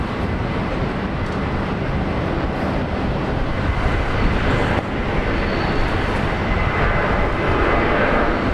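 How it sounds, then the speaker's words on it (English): A 27-year-old Nauru Boeing 737-300 freighter at Brisbane Airport produces a loud, dense, continuous engine rumble that stays steady and close throughout. "the Nauru 737-300 freighter"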